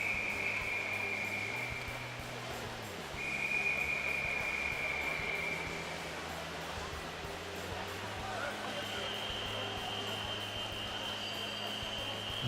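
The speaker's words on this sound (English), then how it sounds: "if you can hear those whistles, that's just the referees down at each end of the pool" Whistles from referees at the lane ends of a swimming pool sound in sustained, fairly faint blasts over a busy echoing crowd din, with several whistles overlapping at different pitches.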